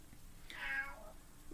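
A single drawn-out meow from Zelda, a 14-year-old senior female cat, fairly close and clear over a quiet background.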